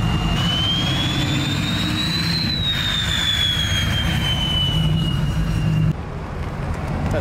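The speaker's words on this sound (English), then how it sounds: "we got the trucks. And this second one sounds like a jet." A loud, steady engine roar with a rising and falling high whine, like a jet, sustained throughout and dropping slightly near the end.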